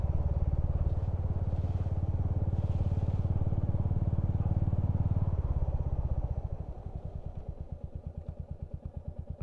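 A Royal Enfield Hunter 350 motorcycle rides along with a loud, steady thumping engine note that eases off after a few seconds into slower, distinct single-cylinder pulses.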